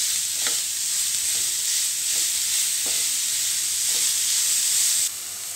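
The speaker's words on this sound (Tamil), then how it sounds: "அந்த பீட்ரூட்டோட பச்சை வாசனை போகிற அளவுக்கு நம்ம வதக்கிடலாம்" Grated beetroot sautéing in a pan for Tamil beetroot chutney, a loud continuous sizzle with faint periodic scrapes of a spatula stirring, steady throughout before easing slightly at the end.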